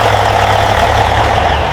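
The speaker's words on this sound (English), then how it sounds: "Engine started. Smooth idle." A Peterbilt 379 truck's diesel engine idles smoothly and close by, a steady low throbbing rumble with an even, unbroken tone.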